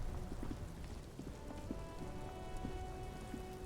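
Steady, close rain patters on surfaces in the video game Disco Elysium, a dense continuous wash with scattered sharper drips throughout and no voices.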